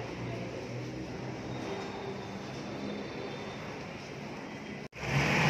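Steady loud rumble and roar of an MRT train at a station near the South Exit in Quiapo, Manila, filling the whole clip, with a brief dropout near the end before the noise surges back.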